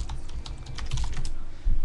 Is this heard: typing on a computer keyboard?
yes